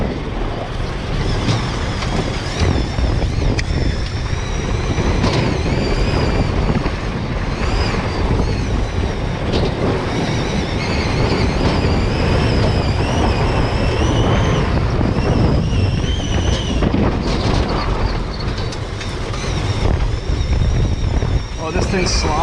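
An electric prototype UTV, rear-wheel drive, on its first test drive, heard as a steady loud rush of wind and tire and drivetrain noise throughout, with a faint whine on top and a voice speaking in the background.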